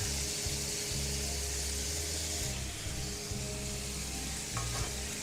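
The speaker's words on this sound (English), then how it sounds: "I was dried our shrimp because I don't want it to splatter too much when I add it to the butter" Dried shrimp sizzling in melted butter in a pan, a loud, continuous frying hiss close up with a low background hum and some faint stirring, without talk.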